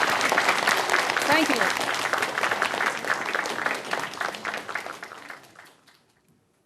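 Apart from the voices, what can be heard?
audience applause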